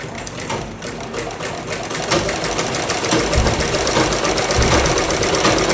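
A foot-pedal sewing machine stitching cloth runs continuously with a rapid mechanical clatter, loud and close, and its rhythmic chatter grows a little heavier partway through.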